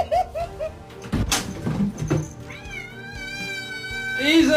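A pet cat lets out several meows, a few short cries and then a longer, drawn-out wail, close by, with a human voice mixed in around them.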